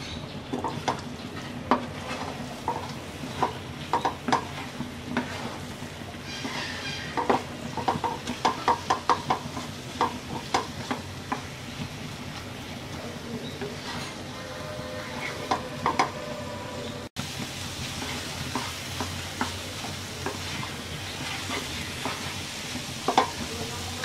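Spice mixture being stirred into sweet raw mango pickle in a pan, with a steady sizzle under repeated scraping and clinking strokes of a spoon, continuous and close throughout.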